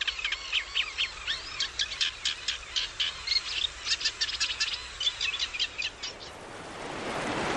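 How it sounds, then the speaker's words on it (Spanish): Birds in a river delta wetland give rapid, repeated chirps in quick bursts over a low insect-like drone, fading out as a rising, surf-like hiss takes over at the end. "de todos los animales del delta, son las aves las que tienen mayor representación e importancia"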